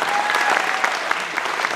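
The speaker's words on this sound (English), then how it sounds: "Let's give one more round of applause to all of our participants today." A round of audience applause at a tribute concert in the Ford Theater of the Country Music Hall of Fame, steady crowd clapping at moderate level with a few sharper individual claps.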